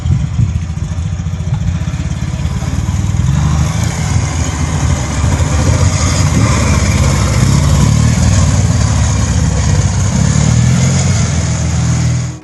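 A Zundapp KS 750 German motorcycle engine runs steadily and loudly up close, a rough, throbbing low-pitched idle with slight rises in revs throughout.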